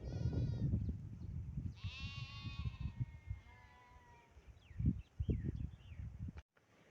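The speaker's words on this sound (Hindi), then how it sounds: "भेड़ और उसका बच्चा ये दोनों चर रहे हैं" A sheep bleats a few times outdoors in a Punjab village, wavering calls over low wind rumble and rustling, fairly near.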